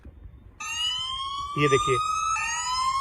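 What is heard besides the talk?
anti-theft phone app siren after SIM tray removal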